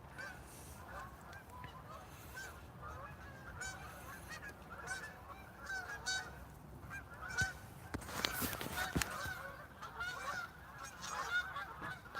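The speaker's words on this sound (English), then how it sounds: "Man, those Cobra chickens are loud as hell today." Geese honk loudly outdoors in foggy weather, with repeated overlapping calls from several birds, some near and some farther off, building to a dense burst of honking midway.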